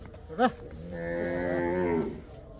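A Sahiwal cow on a farm gives one long, loud, close moo lasting over a second, preceded by a brief rising grunt, with no talking over it.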